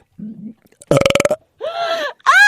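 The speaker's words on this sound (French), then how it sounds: "Mais il y a plusieurs sortes de rot. Il y a le rot sec. Il y a le rot gras." Several loud close burps from a French comedy sketch on kinds of burps, dry and greasy: a short low rumble, then a long throaty belch with rapid pulses, followed by two drawn-out voiced belches.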